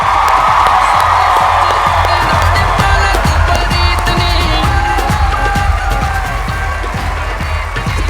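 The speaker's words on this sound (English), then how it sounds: "please give a last round of applause for Rangeela 2013" Audience at the Rangeela 2013 show cheers, whoops and claps in a loud, continuous wash of crowd noise sustained throughout.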